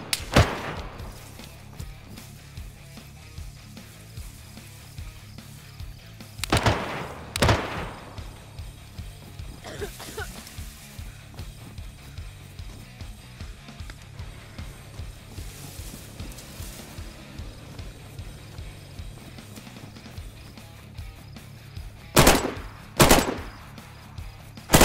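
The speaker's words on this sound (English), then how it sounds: "Stop shooting!" Gunfire in the survival game DayZ: scattered single shots and short paired bursts, loud and sharp against a steady low mechanical rumble, with long gaps of quieter ambience between volleys.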